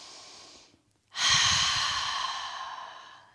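Slow yoga breathing during a back-bending heart-lifting pose: a soft exhale fades out, a brief pause follows, then a long, loud, breathy inhale-exhale close to the mic, alone with no talk.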